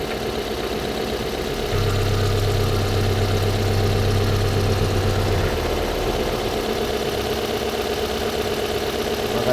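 Toyota Corolla 2E engine idling steadily, a constant close hum with a slightly louder low tone for a few seconds mid-way.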